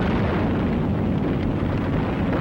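Bombs dropped by fighters and bombers pound the town of Michino, a dense, continuous roar of blasts and rumbling, loud and unbroken throughout, with no voices.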